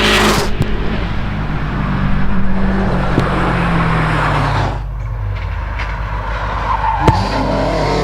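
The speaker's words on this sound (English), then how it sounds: "We've got Adam in the WRX. coming through, nice and neat, keeping it hooked up." A Subaru WRX race car climbs a hillclimb course, its loud engine roaring and rising through the gears close by, then fading and changing pitch as it passes, with some tire noise.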